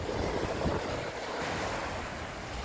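Sea waves wash onto a beach in Greece, a steady broad rushing surf mixed with wind buffeting the microphone, continuous and fairly close with no voices.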